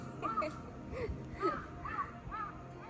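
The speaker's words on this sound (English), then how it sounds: "I can tell it's a Raven, but he sounds a little different." A raven caws several times in a park in Japan, its hoarse calls spaced across the moment at mid distance over a murmur of background ambience.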